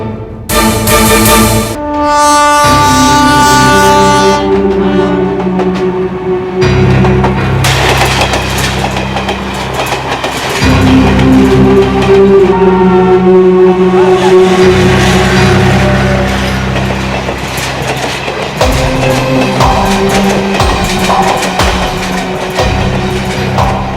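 A moving train for a Hindi horror story, a train ride to Mumbai: loud, continuous rumbling and clattering with sustained tonal, horn-like drones throughout and no speech.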